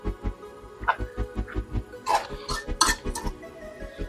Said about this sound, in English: I'm just trying to get the stuff off of the spoon.